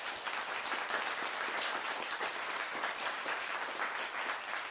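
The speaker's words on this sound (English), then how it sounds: "Want to insert applause into your recording?" A pre-recorded applause sound effect fired from a RodeCaster Pro touchpad, a dense, even burst of crowd clapping that runs steadily for several seconds with no voices over it.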